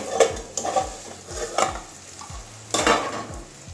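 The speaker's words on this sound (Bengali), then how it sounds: "আস্তে আস্তে ভাজছি, মশলা আছে, মশলাটা যাতে না লেগে যায়। ঢাকা দিয়ে গাজরটা ভাজছি।" Carrots frying with spices in a pan, stirred in short repeated scrapes and clinks of a spatula over a low sizzle, close and fairly loud, with no speech.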